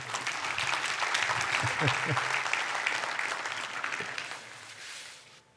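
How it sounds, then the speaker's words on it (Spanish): Church congregation applauding, a dense broad wash of clapping that fills the space, with some voices mixed in, slowly thinning toward the end. "Deme un fuerte aplauso, me lo merezco."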